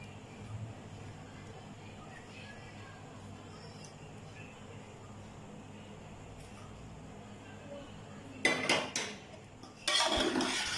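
Chicken pasta in white sauce is stirred in a pan: a long, quiet stretch gives way to two clusters of clattering, scraping utensil-on-pan noise near the end, close and fairly loud.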